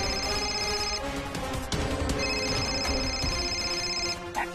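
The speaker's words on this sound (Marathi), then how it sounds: "टिम्पलला पण आताच फोन करायचा होता का?" A phone rings with an incoming call inside a Marathi TV serial scene, a steady electronic ringtone with repeating tonal bursts that stays loud and close from start to finish, with no talk over it.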